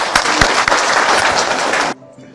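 Audience at a cancer survivors' gathering and awareness event at Rangpur Medical College breaks into loud, dense clapping for a couple of seconds before it cuts off into near quiet.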